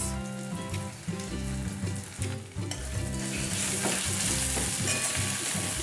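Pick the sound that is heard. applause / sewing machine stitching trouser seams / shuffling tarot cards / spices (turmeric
spices (turmeric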